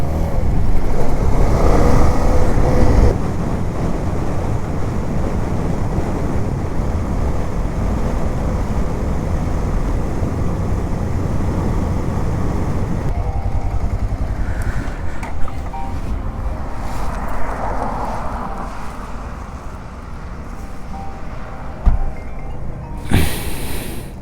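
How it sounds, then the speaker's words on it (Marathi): An adventure touring motorcycle rides along a highway between Malvan and Pune, its engine droning steadily with heavy wind rush throughout, easing slightly midway before a brief louder burst near the end. "हा इसको बोलते भाई adventure bike, adventure plus tourer"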